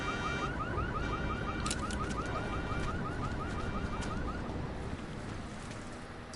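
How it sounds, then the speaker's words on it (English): An alarm in the video game Deus Ex: Mankind Divided beeps in a fast repeating electronic pattern over a dense noisy background, fading slightly toward the end. "Oh, I set off that alarm, but it doesn't matter."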